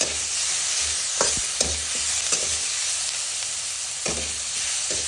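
Onion, spice paste and curry leaves sautéing in a hot pan make a continuous close sizzle, interrupted by several rhythmic scrapes and knocks of a spoon stirring against the pan.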